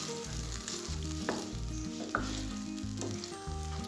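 Meat fries with tomatoes and yogurt for aloo gosht, a steady close sizzle with occasional stirring scrapes and a low hum running underneath.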